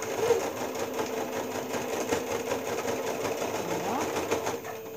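A sewing machine stitching the fabric of a toiletry bag runs continuously at a steady, rapid rhythm, close and fairly loud.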